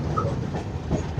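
A brief stretch of low rumbling rail noise at a station where three trains stand waiting on the line, with soft wheel and carriage sounds at moderate distance.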